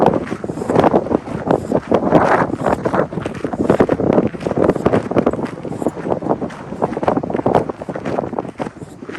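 Gusty 15 to 20 mph wind buffets the microphone in continuous roaring bursts on a canyon trail near the Colorado River, with faint rhythmic footfalls or clopping underneath and no talking.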